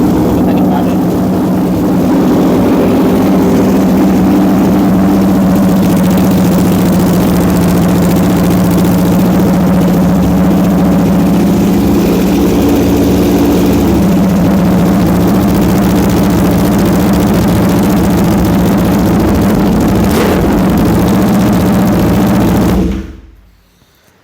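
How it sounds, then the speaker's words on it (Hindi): A 2021 Aprilia RSV4 1100 Factory motorcycle engine idles with a steady, loud, throbbing rumble, then cuts off abruptly at the end, with speech running over it. "मैं स्टार्ट भी कर देता हूँ मोटरसाइकिल को"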